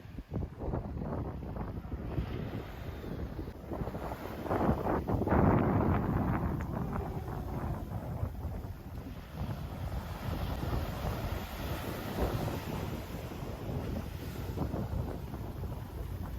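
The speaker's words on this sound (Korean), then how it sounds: "바닷바람이 강합니다." Strong sea wind buffets the microphone aboard a boat near Cancun, a loud, steady roar with gusty surges and the wash of waves underneath, lasting throughout without speech.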